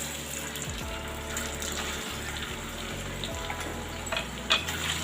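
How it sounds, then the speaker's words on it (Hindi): Potatoes fry in a hot pan over high flame for an okra and potato dish, a close, steady sizzle with intermittent stirring and scraping clatter and a few brief clinks near the end. "अब आलू को फ्राई करूँगी मैं।"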